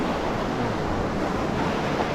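Ocean surf at Tomok Beach in Agno, Pangasinan: a steady, close wash of waves and rushing water, mixed with wind buffeting the microphone throughout.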